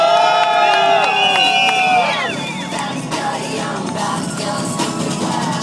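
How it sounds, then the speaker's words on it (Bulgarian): A live show audience shouts, whoops and cheers loudly and continuously, with high yelling voices rising over the crowd noise and then settling into a sustained roar. "А публиката толкова много вика за нея."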